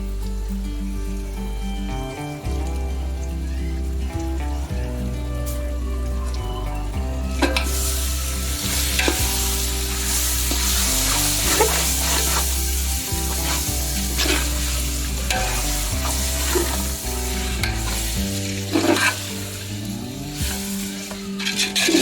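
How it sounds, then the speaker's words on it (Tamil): Chicken biryani cooks in a large pot over an outdoor fire, with a dense continuous sizzle and repeated scraping stirs, loud and close throughout. "அதனால் கிண்டி விட்டுட்டே இருங்க."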